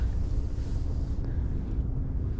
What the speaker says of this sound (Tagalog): Grabe yung hangin guys.